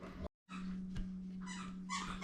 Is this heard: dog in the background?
yes